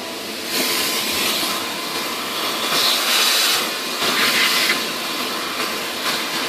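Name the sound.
vacuum cleaner cleaning up debris on model glider wing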